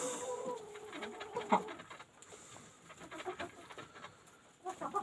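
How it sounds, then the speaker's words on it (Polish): Hens pecking and eating feed in a coop on a December evening. Faint clucks and soft pecking taps come and go in a quiet space, with no talk. "No, że kurki sobie ładnie jedzą."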